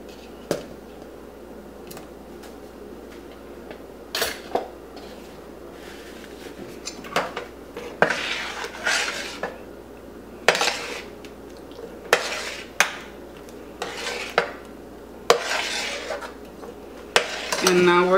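Chunks of sweet potato are added to a pot of habichuelas con dulce, making scattered clinks and clatters of utensils against cookware, close by, with intermittent talk.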